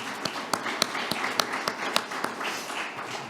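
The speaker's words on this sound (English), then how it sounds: "Please give a big round of applause for all of our sponsors." Scattered hand clapping from an audience at an awards event, a steady patter of applause with some sharper individual claps standing out, moderately faint.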